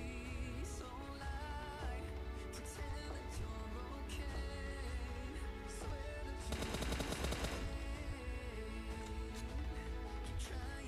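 Bursts of automatic gunfire and rapid shots ring out amid a firefight in the mobile battle royale game PUBG Mobile, loud and dense over constant game music and ambient noise.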